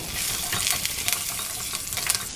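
Curry leaves, dried and green chilies and ginger frying in hot oil for sundal give a loud, close, steady sizzle with crackling pops and brief scraping bursts of stirring.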